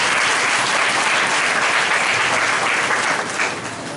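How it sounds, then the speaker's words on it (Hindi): A church congregation claps together in a loud, dense burst of applause that holds steady for several seconds, then begins to fade slightly at the end. "ताली बजाओ यीशु मसीह के लिए।"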